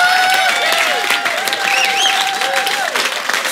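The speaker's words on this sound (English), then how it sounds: "give me a big round of applause" A live studio audience at a funk band session applauds loudly and continuously with a few whoops, filling the room with steady clapping and no talk over it.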